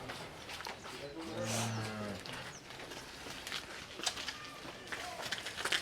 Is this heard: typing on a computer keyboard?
no